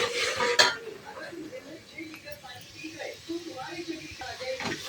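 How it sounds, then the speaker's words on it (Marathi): A spoon stirs masala spices being roasted in a pan, with scattered metallic scrapes and clinks against the pan, fairly quiet and close, while a voice talks faintly in the background. "मसाला हलवूया"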